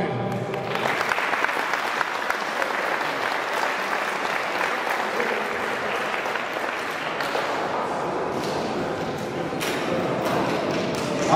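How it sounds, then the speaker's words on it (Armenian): A crowd at the opening ceremony of an international powerlifting championship in Armenia applauds the national army heroes, a dense, steady roar of clapping that starts abruptly after a brief voice and sustains loudly throughout. "Ազգային բանակի հերոսներին հատուկ ծափահարություններ։"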